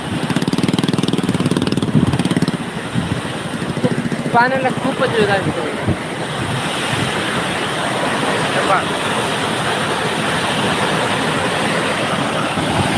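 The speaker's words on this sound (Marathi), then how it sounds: "आमची नुसती गाडी फटफट करती" A vehicle engine putt-putts with a continuous rough, low chugging drone throughout, while people talk loudly over it.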